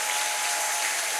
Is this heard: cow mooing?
no